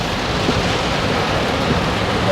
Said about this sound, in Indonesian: Wah, hujannya deras teman-teman.